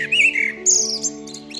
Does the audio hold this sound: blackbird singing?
yes